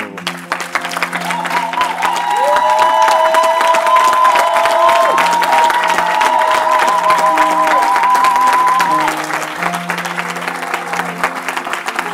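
A church congregation cheers and applauds loudly, with dense clapping, shouts and whoops swelling over a sustained musical chord before fading toward the end, while a voice speaks over the crowd.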